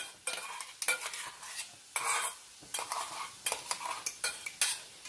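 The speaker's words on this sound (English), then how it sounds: "Saute it 2 to 3 minutes." Tomato and onion paste sautéing in a wok with very little oil, a spoon stirring and scraping against the pan in repeated clattering strokes over a soft sizzle, close up.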